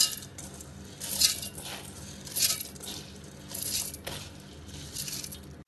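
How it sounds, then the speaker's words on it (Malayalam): Soaked raw rice, washed after five hours, is tipped into a mixer grinder jar, giving scattered grainy clinks and rattles in several short bursts against the jar, fairly close and with no talking. "ഇതിനി അരച്ചെടുക്കാൻ വേണ്ടി മിക്സിയുടെ ഒരു ജാറിലേക്ക് ഇടാം."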